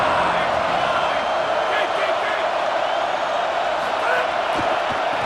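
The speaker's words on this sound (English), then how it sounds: "This crowd ready to make its presence known." A roaring stadium crowd in EA Sports College Football 27 forms a dense, loud, continuous wall of noise with scattered cheers and whoops.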